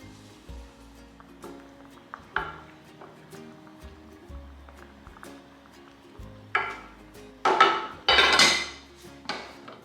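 Metal clanks and clatters of a lid being put on a pot of spicy habanero salsa, sharp knocks scattered across a quiet kitchen, louder near the end.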